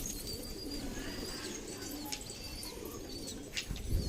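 A high flyer pigeon in Jalna, Maharashtra coos softly in low, rolling murmurs, with faint higher bird chirps scattered over a steady outdoor background.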